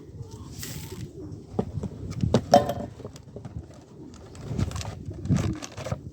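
Pigeons coo in a loft with soft, overlapping murmurs rising and falling over about six seconds, close by, with a few light clinks and rustles among the birds.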